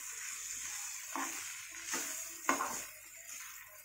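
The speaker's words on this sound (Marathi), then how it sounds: "मी ॲड करणार आहे टोमॅटो। त्याला छान एकजीव करा।" Stirring dry prawn masala with added tomato in a pan, a few soft scraping strokes over a steady low sizzle, with one sharper clack near the end.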